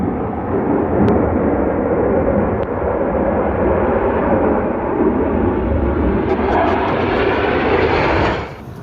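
Blue Angels jet aircraft on a practice flight roar past in a loud, steady, broadband rumble that holds nearly the whole time, then drops off sharply at the end.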